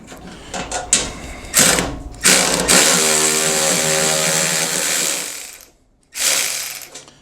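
A Milwaukee M12 cordless ratchet runs loud and close, starting with a few short bursts and then spinning in a sustained whirring, clicking run that cuts off before one more brief burst.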